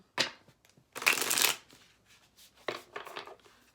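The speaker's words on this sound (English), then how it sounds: "Let's do one last shuffle." Tarot cards are shuffled in several quick riffling bursts, close and crisp, with short pauses between them.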